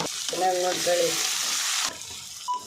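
Tomatoes fry in a pan for a quick pasta dish, giving a continuous close sizzle that drops suddenly near the end, with a few faint tonal sounds mixed in.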